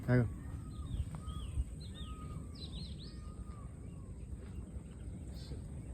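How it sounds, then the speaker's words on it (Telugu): Several birds call outdoors at dusk on farmland, with chirps and short whistling notes scattered over a steady low background hum. "బర్డ్స్ అన్ని రకాల బర్డ్ సౌండ్స్ నెమలి సౌండ్స్ ఏ సౌండ్స్కు కొరత ఉండదు"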